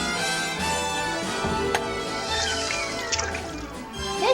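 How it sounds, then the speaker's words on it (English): Water sloshes and drips as a container full of water is set into a toilet tank, soft splashes and trickles with a few clinks, close and quiet. "Put a container full of water in your toilet"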